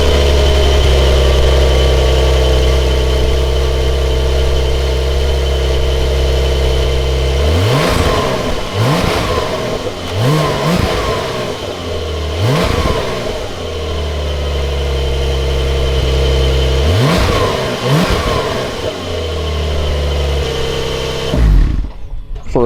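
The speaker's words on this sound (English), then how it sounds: "For a stock exhaust, it sounds amazing." A 2021 Porsche 911 Carrera 4S on its stock exhaust idles nearby, then is revved in a series of sharp blips with throaty rises and falls before settling back to a low idle.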